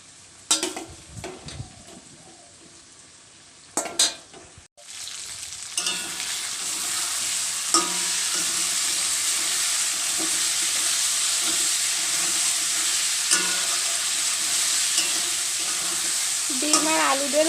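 Eggs and potatoes frying in spices in a pan, a few clattering knocks at first, then a loud, steady, close sizzle that carries on with faint stirring movements.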